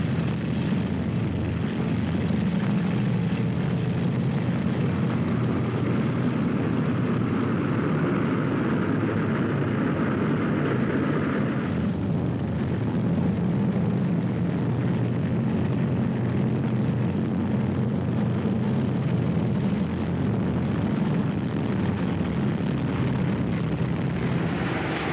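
A 1950s-era propeller airliner on its eastbound arrival from New York and Shannon, a steady loud engine drone filling the scene without letup, its tone shifting slightly partway through, with no voices.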